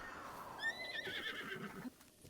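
A horse in the Zelda video game gives a single whinny, a falling then rising neigh lasting about a second and a half, fairly faint, with light hoof clops.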